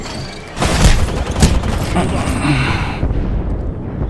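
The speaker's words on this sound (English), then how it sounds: "Calling the airstrike." A heavy booming airstrike blast erupts in a video game battle royale arena, followed by rumbling impacts and debris, loud and close, while a player speaks over it.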